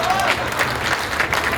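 Dense, continuous audience applause at a humorous Hindi poetry gathering, fairly loud and washing through the whole short stretch, with a voice talking over it.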